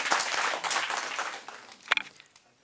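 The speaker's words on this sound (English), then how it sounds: "let us give a big round of applause for our anchor, Pratiksha." Audience at a university chemistry department's valedictory workshop function applauding, a dense burst of clapping that thins out and fades, ending in a few scattered claps.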